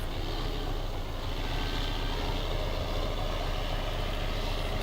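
A ZIL truck in Farming Simulator 2015 drives along with a steady, moderately loud engine rumble and broadband road noise that hold evenly throughout, without any talk.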